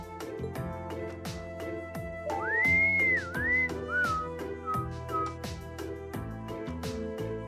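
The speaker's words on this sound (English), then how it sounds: "That innocent whistling isn't fooling anyone." A character in the video game Trails of Cold Steel whistles an innocent tune, a bright melodic line rising and falling over a plucky background music track, with no speech.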